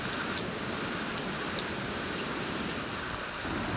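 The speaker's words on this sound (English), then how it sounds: "It's starting to rain pretty heavily." Heavy rain pours outdoors in the mountain country of Westland, New Zealand, a dense, constant hiss of drops striking the ground and foliage close by, with no voices.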